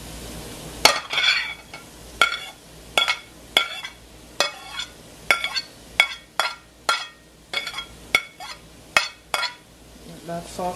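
Vegetables are tipped into a Creole fish stew pot and stirred with a utensil, making about a dozen sharp clinks and scrapes in a steady rhythm, close and moderately loud, with a faint sizzle underneath.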